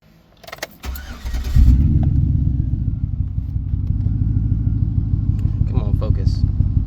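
A 2007–2013 Chevy Silverado engine idles with a misfire, a steady rumbling drone with uneven pulses that starts after a short burst of handling noise and stays close and loud throughout.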